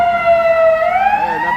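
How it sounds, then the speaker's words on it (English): A fire department ladder truck's siren wails as it passes on a Chicago street, the rising and falling tone sweeping loud and close over low traffic rumble. "It's a ladder truck."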